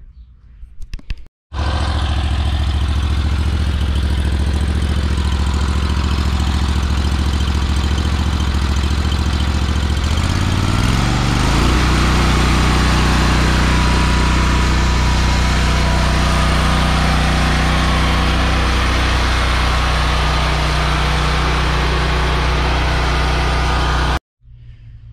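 A 2021 Scag Turf Tiger II mower engine runs loud and close after an oil change, its steady drone shifting pitch about halfway through as the throttle changes, then cutting off abruptly.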